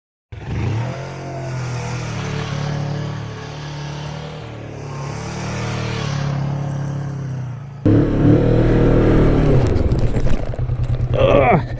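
A Kawasaki Vulcan 1000 motorcycle drones steadily at speed with heavy wind rush, then its engine note rises louder and rougher as the rider accelerates.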